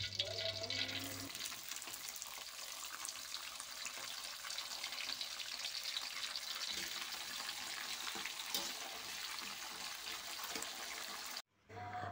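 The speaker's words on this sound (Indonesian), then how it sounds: "Kemudian lanjut goreng kacang tanahnya sampai dengan matang." Peanuts frying in oil in a pan, a continuous dense sizzle and crackle close up, with occasional stirring scrapes and light knocks, cutting off abruptly just before the end, no talking.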